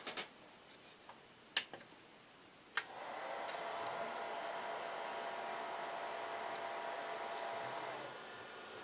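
MSI Aegis desktop PC with a GTX 1080 boots up, opening with a few sharp clicks and then settling into a steady, faint whoosh of fans and drives that drops slightly near the end.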